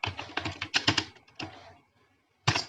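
Keys tapped on a computer keyboard while entering an SQL query, a quick cluster of sharp clicks followed by a few spaced strokes, a pause, then one final keystroke, close and clear with no voices.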